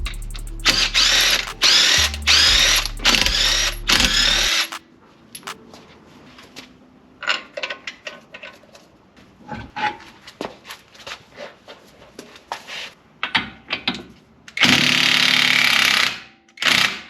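Short bursts of an impact wrench driving a 32 mm 1/2-inch drive 6-point socket, loud and close for about four seconds, then quieter clanks and handling, with another loud mechanical burst near the end.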